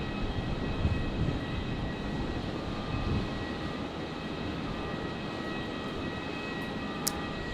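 Airliner in OneWorld livery taxiing toward runway 19 left at night at Brisbane International Airport, a steady distant engine rumble and whine holding evenly throughout, with a faint high tonal hum and a brief click near the end.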